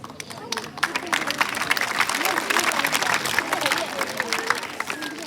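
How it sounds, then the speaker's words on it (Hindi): Audience clapping at a school farewell function in Rajasthan, a steady crowd of hands with loud sharp claps near the front, mixed with murmuring voices throughout. "आपकी तालियों की रिदम सही नहीं है।"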